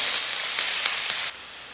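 Three large finely chopped onions hit hot oil in a pan for an egg gravy, a bright, loud, steady sizzle that drops suddenly to a softer hiss near the end.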